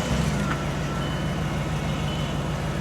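A 2003 Audi RS6 engine runs steadily at idle, a dense low rumble with fine pulsing texture, close and loud, with no talk over it.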